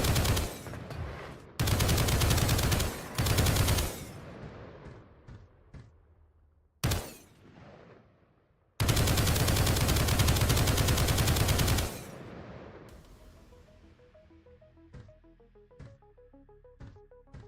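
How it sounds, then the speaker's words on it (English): Bursts of automatic assault rifle fire from Project Onyx, a shooter game still in development: loud, dense rapid fire in several long strings with brief gaps and short single shots between, then ringing decay and quiet game ambience. "the assault rifle in version 2 is currently like"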